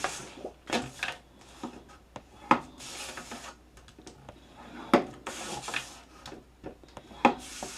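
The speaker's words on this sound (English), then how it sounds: "we're going to score these at 1/2 inch on 2 short sides and 1 long side" Paper being scored for a handmade mini album with a scoring tool, giving scattered scraping rubs and sharp taps and clicks at irregular intervals, close and moderately quiet, with no talk.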